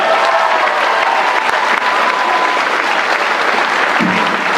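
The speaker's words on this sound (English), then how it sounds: "Let's give them a round of applause, everyone." An audience applauds graduating seniors at a 2023 graduation ceremony, with dense, loud, continuous clapping from a large crowd throughout and a brief low thump near the end.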